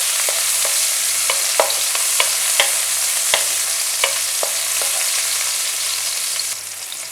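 Garlic, ginger and green chillies fry in olive oil over high heat, giving a steady loud sizzle. Sharp clicks of a spoon or spatula against the pan sound at irregular intervals.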